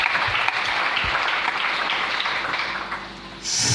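A church congregation applauding the Lord, a dense sustained wash of clapping that fades slightly toward the end, then a brighter swell of noise in the final moment.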